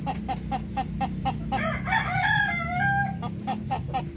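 Native Pinoy hens cluck in a rapid, regular series, with a drawn-out crow rising in the middle, close and clear over a low background hum.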